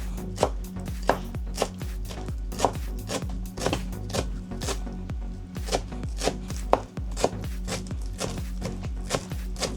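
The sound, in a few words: knife finely chopping cilantro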